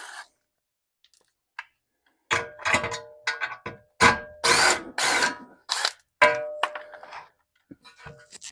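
Ratchet and 13 mm socket working loose the bolts on a Jeep Gladiator's factory skid plate, bursts of rapid clicking and metallic clanks in uneven spurts after a quiet opening, close and loud, with no talk.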